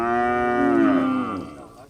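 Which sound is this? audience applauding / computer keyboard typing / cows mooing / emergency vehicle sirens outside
cows mooing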